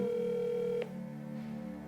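A telephone tone sounds steadily during a repeated call attempt, then cuts off partway and leaves a quieter line with a low hum and murmur.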